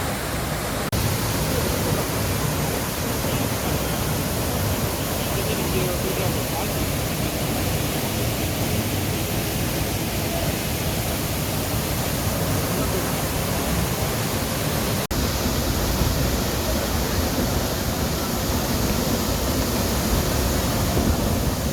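Soochipara waterfall in Wayanad: a dense, continuous broadband roar of falling water, loud and unbroken throughout, with voices faintly present beneath the rush.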